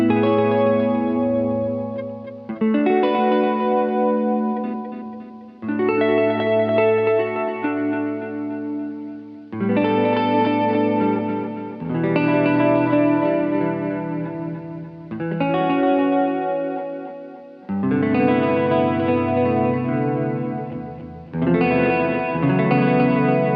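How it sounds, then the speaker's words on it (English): An electric guitar runs through an Eventide H9 on its beauty echo preset, ringing out strummed chords in several sustained phrases with lush repeats and shimmering chorus-like tails, loud and alone. "It's on a beauty echo, so let's activate that."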